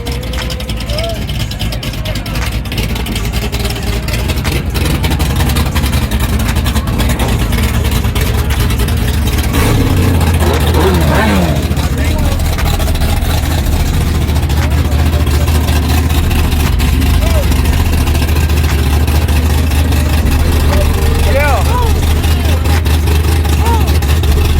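A small four-cylinder drag car engine runs steadily at a drag strip, a loud continuous low drone that shifts to a deeper, heavier rumble partway through, with people talking nearby over it.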